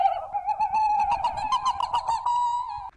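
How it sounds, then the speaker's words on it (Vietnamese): A myna bird gives a loud, sustained whistling call with a steady tone and rapid warbling pulses over about three seconds, close and clear, with no voices. "Không cần chạy, đây là tiếng của chim sáo."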